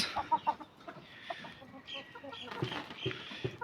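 Several hens cluck in short, uneven bursts close by, with a few sharper calls mixed in and soft background noise between them.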